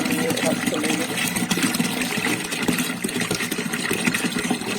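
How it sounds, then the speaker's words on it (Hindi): Water runs and splashes into a steam cooker in a home kitchen, a constant close gush with a mechanical hum beneath, while someone talks over it. "अब स्टीम कुकर के अंदर पानी भर लेंगे, इसको गर्म होने के लिए रख देंगे।"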